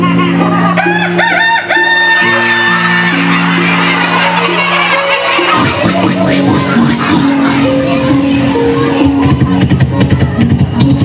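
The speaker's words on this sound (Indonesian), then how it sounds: "ada seekor ayam berkokok di pagi hari." A rooster crows loudly several times in the morning, with clucking fowl and a murmuring crowd in the background.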